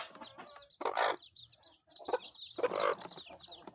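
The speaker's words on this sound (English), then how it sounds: "Let's grab the chicks." Brooding chicks clucking and peeping nearby, with rapid high chirps scattered throughout and two louder bursts of fluttering or scuffling, close and moderately loud.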